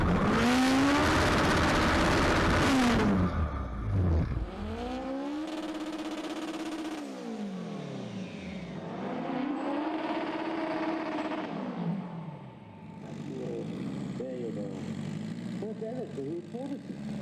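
On-board run in a front-wheel-drive drag race car at Santa Pod Raceway, the engine revving hard through repeated rising gear pulls, loud and close, with a commentator talking over it.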